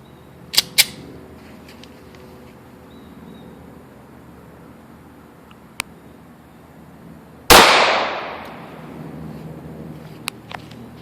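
A .40 Smith & Wesson pistol fires a single loud shot outdoors at about 7.5 s, its report trailing off into a long decaying echo, with a few sharp smaller pops and clicks scattered around it.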